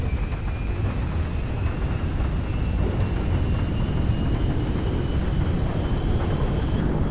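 Jet engines of an Antonov 225 Mriya in GTA 5 spool at full takeoff power, a steady, loud, broadband roar with a faint high whine, continuous and unbroken throughout.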